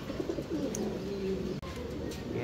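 Lahori pigeons coo at a pigeon farm, a low continuous rolling cooing from several birds nearby, with faint chirps and background bustle.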